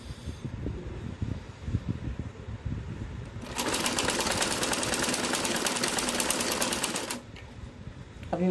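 A close sewing machine stitches a salwar seam in one steady, loud run of a few seconds, with fabric handling before and after it.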